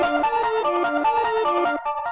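Overdrive-distorted synth playing a short stepping melody in Ableton, bright, buzzy and close, alone with no voices.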